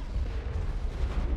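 A grenade blast in the sci-fi shooter Mass Effect, heard as a dense, sustained low rumble lasting the whole moment, steady and loud with no clear separate bursts.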